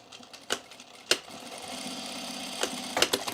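A sewing machine stitches a seam across the top of overalls with right sides together, whirring steadily at close range between a few sharp clicks and thumps from handling the fabric.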